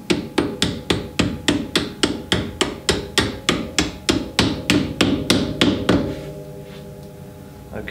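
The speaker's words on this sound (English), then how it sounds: "using a copper headed mallet I can gently drift that in without damaging the thread" A copper-headed mallet drifts a damper bolt into a TVR Vixen Series 3's suspension mount, about twenty quick, evenly spaced metallic taps close up, then a fading ring and quiet.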